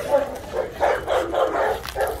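A male dog growls and vocalizes at another dog in a series of rough, mid-pitched bursts, fairly close and moderately loud, with short gaps between them.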